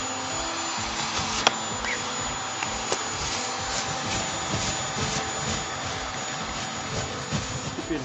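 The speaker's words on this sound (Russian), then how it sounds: "Обычным пылесосом собираем это все." A vacuum cleaner runs steadily on a carpet, a loud, continuous high-pitched whine and roar with occasional small clicks and knocks as it is pushed along.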